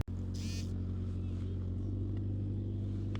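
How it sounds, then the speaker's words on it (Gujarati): A tractor drives past on a strawberry farm in Leicester, making a low, steady engine drone at moderate distance. It stays fairly faint and even throughout, with a brief higher whine near the start. "જો ઓલું ટ્રેક્ટર જાય"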